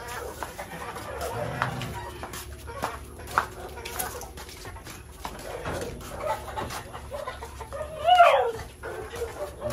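Gamefowl clucking in a breeding area with Rhode Island hens, faint and scattered, with a dog barking now and then and a louder call near the end; someone talks throughout.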